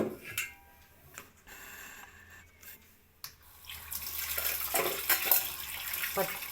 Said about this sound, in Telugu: ఫస్ట్ ఏమో ట్యాప్ వాటర్తో క్లీన్ చేసుకుంటాను